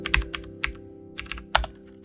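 Keystrokes on a computer keyboard in a shop in the Roblox Brookhaven game, a quick, uneven run of sharp clicks over a low steady hum, close and moderately loud.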